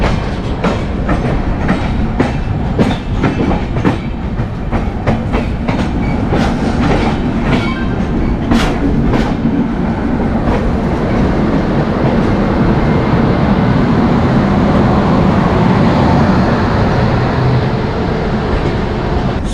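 Indian express train, the Hazrat Nizamuddin–Yeshwantpur Express, running on rails with steady rumbling roar and repeated clickety-clack wheel beats over joints, loud and close throughout with no talk.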